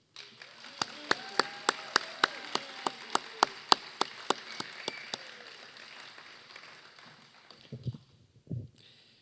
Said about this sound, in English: could we have a round of applause for our extraordinary cultural arts supervisor, Rachel Timlin